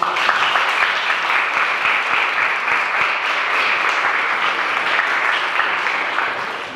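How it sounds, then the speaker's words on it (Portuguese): A seminar audience gives a sustained round of applause, dense and steady for several seconds at close range, tapering slightly at the end with no talking over it. "Salva de palmas."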